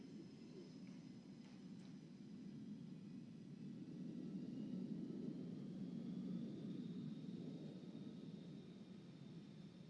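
Military jets rolling out after landing at the NAS Oceana air show, a steady low rumbling engine drone that swells slightly mid-way and stays fairly faint and distant, with no talk over it.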